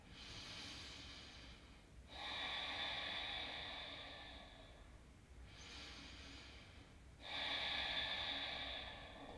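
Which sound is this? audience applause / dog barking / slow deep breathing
slow deep breathing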